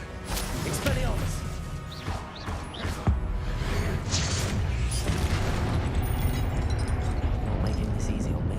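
Expelliarmus disarming spell fired in Hogwarts Legacy combat, a dense crashing blast with whooshing swishes and sharp impacts over a continuous loud, busy battle din.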